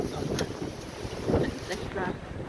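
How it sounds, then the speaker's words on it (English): Strong gusts of wind rush outside an open door on a freezing cold, blustery day, a loud continuous roar with buffeting surges that swell and ease, heard alone. "Look at the gusts of wind."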